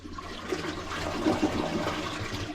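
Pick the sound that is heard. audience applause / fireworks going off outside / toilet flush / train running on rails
toilet flush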